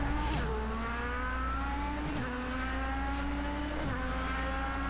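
An IndyCar racing engine in Project CARS 3, a steady high-pitched whine that climbs through the revs, dips sharply at each gear shift about every two seconds and then climbs again, loud and close with no talking.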